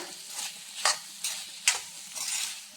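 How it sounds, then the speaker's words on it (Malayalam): Potato mezhukkupuratti being stirred in a pan, a soft sizzle broken by several scraping strokes of a spoon at an uneven pace, close and fairly quiet with no talk. "തുറന്നിട്ട് ഒന്ന് ഇളക്കി കൊടുക്കാം."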